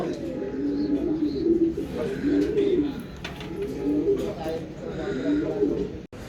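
Racing pigeons coo in low, rolling repeated calls, steady and close, with a sharp click near the end.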